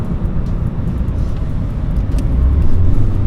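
Mitsubishi Evo car accelerating in second gear, a loud close rumble of engine and road noise that swells toward the end, heard alone without talk.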